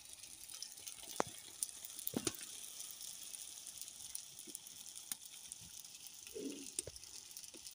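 Dough frying in hot oil for Moroccan rfissa gives a faint, steady sizzle with scattered small pops and crackles across several seconds, nobody speaking.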